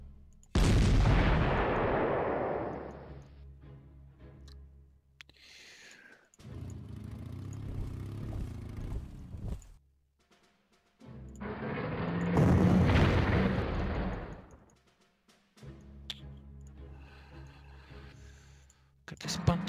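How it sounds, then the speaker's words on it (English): Artillery fire in the Panzer Corps wargame, booming blasts that rise loud at the start and again midway, with speech between the bursts. "Stupid artillery."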